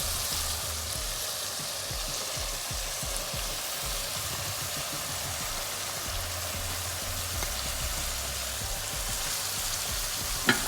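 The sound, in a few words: onion frying with chicken gizzards in pan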